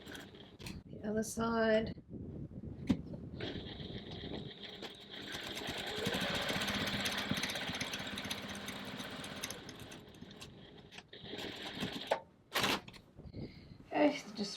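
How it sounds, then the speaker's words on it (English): A sewing machine stitching the bottom and top lines of a bag at stitch length 2.4, a steady mechanical whir running for several seconds, with brief speech and handling sounds before and after. "So we're going to stitch the bottom and top lines."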